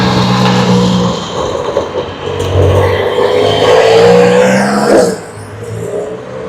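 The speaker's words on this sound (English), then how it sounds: "how many of y'all love the Mustang? Really nice, love the engine sounds." Ford Mustang engine heard outdoors at Sydney Airport, a steady loud rumble with a rising rev toward the end before it eases off, with no talk over it.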